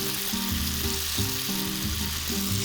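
Anchovies and sesame seeds fry in hot garlic oil with a loud, continuous sizzling hiss, close up, while music plays underneath.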